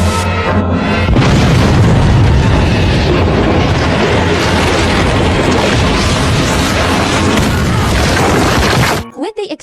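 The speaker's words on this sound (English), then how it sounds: "He lit the fuse decisively." A huge, sustained explosive roar from a lit fuse in the TV series Lost fills the scene, loud and rumbling for several seconds before cutting off abruptly into near silence.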